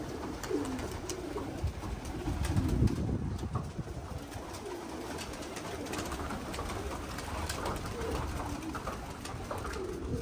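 Pigeons coo low and steadily among a small flock, with soft repeated calls running throughout over a constant background hum, some nearer, louder bursts around the middle.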